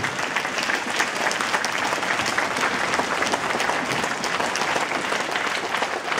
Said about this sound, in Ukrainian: Будь ласка, підтримуємо оплесками ветеранів.